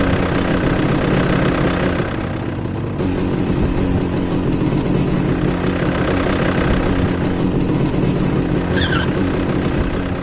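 A motorcycle engine in the video game HROT runs with a loud, steady rumbling idle and throaty low drone throughout, with a brief dip in intensity partway and a short high chirp near the end, with no voices.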